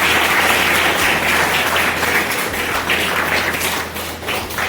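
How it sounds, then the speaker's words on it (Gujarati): An audience at a school event for a free eyeglasses camp, held with the Lions Club, applauds to welcome the club president: dense, continuous clapping filling the room, fairly loud and steady, with no voices over it. "આપણે સૌ તાળીઓના ગણગણાટ સાથે કરીશું"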